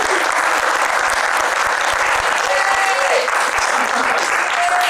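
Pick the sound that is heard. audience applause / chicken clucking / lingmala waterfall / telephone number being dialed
audience applause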